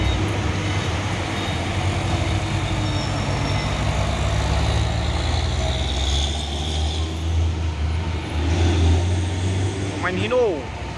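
A Hino bus rumbles past with a heavy low drone that swells and fades, and its engine noise fills the scene until a short voice cuts in near the end.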